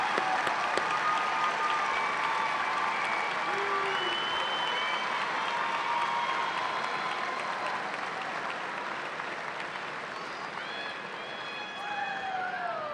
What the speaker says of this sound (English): Let's give him hearty applause.